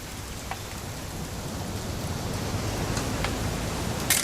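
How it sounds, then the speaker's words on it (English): Steady rain falls in the video game What Remains of Edith Finch, an even, close wash of patter that swells slightly toward the end, with a few sharp drips standing out. "It's gonna rain the whole weekend, isn't it?"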